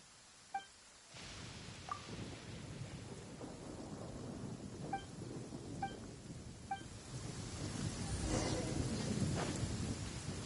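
In the video game Genshin Impact, rain falls in a steady, soft wash that thickens toward the end, with a few faint chimes and light taps scattered through it and no talk.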